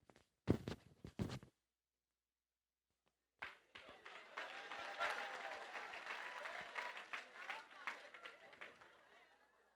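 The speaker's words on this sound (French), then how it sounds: "vous allez faire beaucoup de bruit pour l'Aroma parce qu'il va arriver devant vous" An audience at a party show breaks into applause after a few sharp claps and a brief silence, swelling into steady, dense clapping with scattered voices and chatter mixed in, moderately close.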